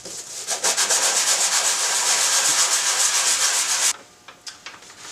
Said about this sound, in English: Okay, that finishes the first pass of sanding.